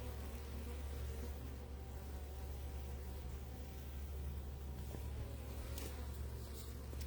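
Honey bees hum around an open hive in a low, continuous buzzing swarm, with individual bees droning past now and then over a steady murmur; no one talks.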